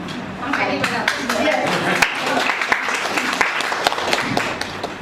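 Audience applause at a Hindi poetry recital: a steady, close round of many hands with sharp individual claps standing out, and voices murmuring beneath the clapping.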